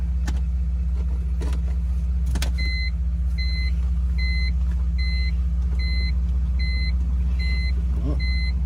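Inside a car with the key switched on, a steady low rumble runs throughout while a regular electronic warning chime repeats about eight times.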